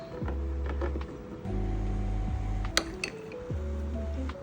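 A microwavable bowl clinks in a home kitchen while rice is reheated with an ice cube, giving a few sharp glassy taps over a steady low hum.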